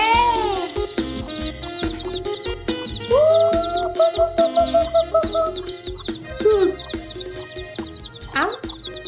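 A hen and chicks cluck and peep close by in a village yard, short bursts mixed with chirps and a brief crowing-like call, alongside speech and other background activity.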